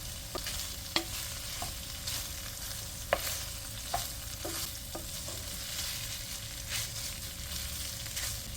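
Salted meat sizzles steadily in a frying pan, a continuous close hiss broken by a few sharp utensil clicks and scrapes, with no voices.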